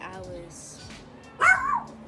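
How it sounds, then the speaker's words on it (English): A dog barks once, briefly and fairly loud, in the background while someone speaks over it. "sorry for my dog in the back."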